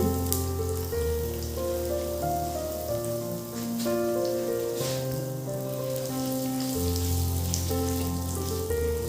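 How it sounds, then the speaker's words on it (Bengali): Panch phoron and asafoetida fry in about two spoons of white oil for a Bengali-style spicy potato curry. A steady crackling sizzle runs throughout, close and continuous, with faint tonal background sound and no speech. "30 থেকে 40 সেকেন্ড সময় ধরে একটু ফ্রাই করে নিয়ে"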